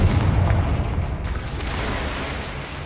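A Confringo fire spell from Hogwarts Legacy bursts in a loud, deep booming blast that rolls into a long rumbling decay, with no talk over it.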